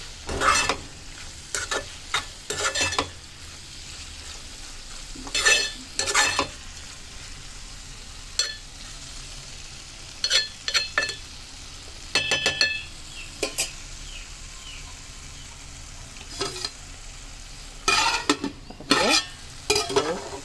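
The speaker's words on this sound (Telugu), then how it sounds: "కొత్తిమీర వేసిన తర్వాత మంచిగా కలుపుకుందాం" A spoon scrapes and stirs cabbage curry with fresh coriander in a hot pan. Intermittent bursts of clattering strokes rise over a soft background sizzle, close and fairly loud, with quiet gaps between them and no talking.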